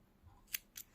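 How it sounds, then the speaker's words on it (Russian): Scissors cut through knitting yarn while a knitted poncho is being finished: two crisp, quick snips about a quarter second apart, close and fairly quiet against a hushed room. "берем ножницы, отрезаем"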